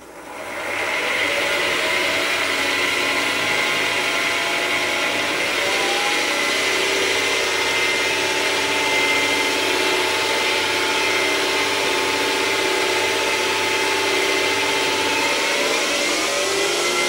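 A pen lathe cranked up to high speed while finishing a helix pen, giving a loud, steady motor whine with a constant hum that runs unbroken for the whole stretch.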